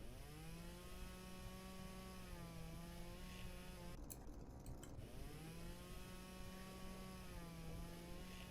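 A chainsaw in the video game Flashing Lights drones steadily as it cuts wood, its engine pitch dipping and rising while a brief harsher bite of cutting comes through midway, loud and close without speech.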